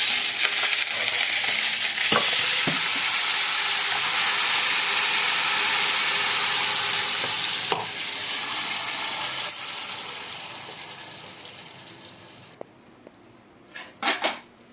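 Ration-rice chicken biryani is stirred in a pot, making continuous scraping and sizzling that holds strong for about twelve seconds, then fades out, with a few small clinks near the end.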